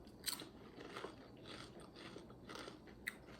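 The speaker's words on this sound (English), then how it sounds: "I hope you guys can hear the crisp of me crunching the crispiness of this potato chip." Crunching bites of a fresh homemade potato chip, several crisp, close crackling crunches in a row with no talking.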